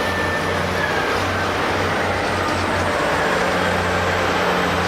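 Caterpillar heavy machines, a 992K wheel loader, a D11 track-type tractor and a 777 haul truck, rumble together at a Malaga job site, a steady low diesel drone with engine hum and grinding noise holding throughout.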